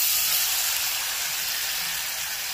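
Paneer pieces added to fully heated oil in a home kitchen, giving a steady, bright sizzle and hiss that stays even and close for a couple of seconds with no talking.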